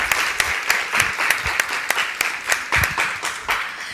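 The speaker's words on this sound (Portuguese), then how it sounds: "Palmas para Maria Elza de São Rafael." An audience applauds for Maria Elza of São Rafael at an in-person gathering, a steady burst of close, dense hand clapping lasting several seconds with no talking over it.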